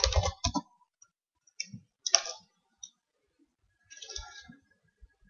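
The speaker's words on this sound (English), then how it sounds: "so we type in exit twice" Computer keyboard keys clack in a few short bursts of typing, close and crisp, separated by quiet pauses, with no one speaking.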